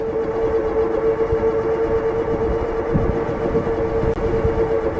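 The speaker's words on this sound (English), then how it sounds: "The motor's pretty loud too, guys." A Freego F1 Pro electric moped's motor gives a steady high-pitched whine at about 24 mph, holding a constant tone over rushing wind and road noise, continuous and fairly loud throughout.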